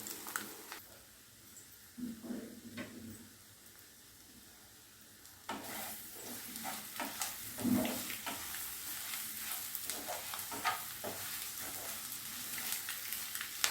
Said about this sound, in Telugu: ఇప్పుడు సిమ్లో 2 మినిట్స్ బాగా ఫ్రై అవ్వాలి